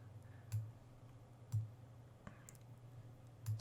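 Mouse button clicks at a computer while dragging in Blender animation work: three or four soft, sharp clicks spaced about a second apart over a low steady hum, close and quiet.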